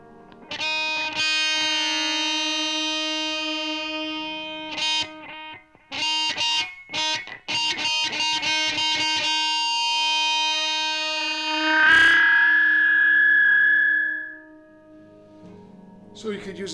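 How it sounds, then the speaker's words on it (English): Electric guitar, a Davison, played through a Hoerev (Rowin) delay pedal: sustained notes and bursts of quick repeated picking trail off in echoes, then a swelling, singing tone rises before fading. "Okay, so let's do the delay."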